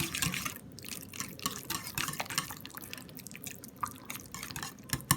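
Spoon beating curd (yogurt) in a bowl for raita, giving a steady run of quick wet clicks and soft liquid slaps, close and moderately quiet, with no voices.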